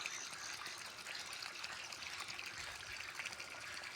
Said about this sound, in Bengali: সেই জমিতে কি সুন্দর টুলু পাম্প দিয়ে সেচ দিচ্ছে। দেখুন এই যে জল পড়ছে এখানে